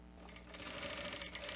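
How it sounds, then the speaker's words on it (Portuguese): A sewing machine set to its longest stitch runs in a short close burst, stitching a vertical seam through an elastic waistband on cropped trousers, its motor hum rising into a rapid needle rattle. "E vou aumentar o ponto da minha máquina pro número 5, o maior ponto que vocês tiverem na máquina de vocês, e passar uma costura aqui na vertical"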